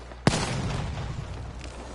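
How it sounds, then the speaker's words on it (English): A sharp explosion bursts out in a video game battle, followed by a rolling rumble and scattered distant blasts fading under the din. "A few explosions here happening."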